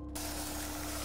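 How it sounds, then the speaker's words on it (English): Explosive gel sprayed from a canister in Batman: Arkham Asylum, a short steady hiss that starts abruptly after a brief pause and holds for about a second, alone. "RT spray explosive gel."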